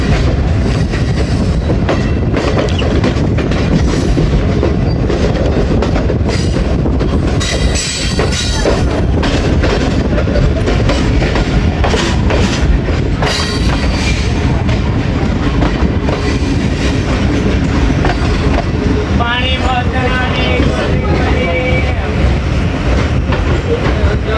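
The 14 Down Awam Express passenger train runs on rails between Attock City Junction and Rawalpindi, a loud, continuous rumble with clattering wheels and brief squeals, heard from on board.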